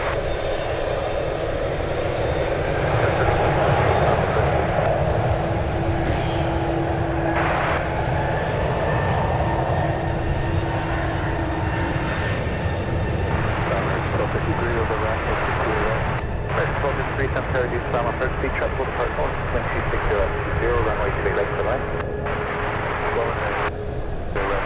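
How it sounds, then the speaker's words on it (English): Japan Airlines Flight 1, a jet bound for Tokyo Haneda from San Francisco, gives a loud, steady engine roar with droning tones throughout, while someone talks over it. "That is Japan Airlines 1 heading to Tokyo,"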